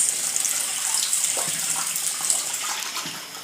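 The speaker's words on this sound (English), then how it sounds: "When you're washing your rice," Tap water runs steadily while rice is rinsed in a kitchen, a continuous close splashing hiss with no talking.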